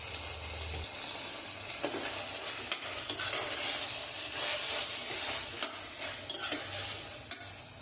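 Prawns sautéing in a pan for prawn biryani, a continuous close sizzle with steady stirring scrapes and a few sharper spoon knocks against the pan.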